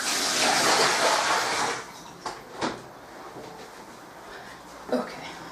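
Liquid drains off in a rushing, splashing pour while milk soap is being made, then stops, followed by a few soft knocks and clunks of containers.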